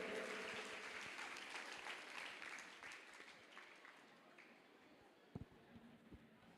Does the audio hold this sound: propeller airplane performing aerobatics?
no